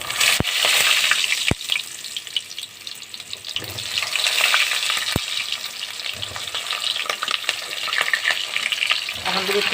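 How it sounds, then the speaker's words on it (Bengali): Pointed gourd (potol) frying in oil in a pan for a potol-shrimp dish, a loud continuous sizzle broken by a few sharp scrapes and clinks of a spatula stirring. "পটলটা ভেজে নিচ্ছি আগে।"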